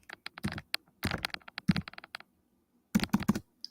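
Typing on a computer keyboard with some broken keys, heard as close, crisp clattering bursts of keystrokes separated by short pauses, with a few sharper clacks standing out.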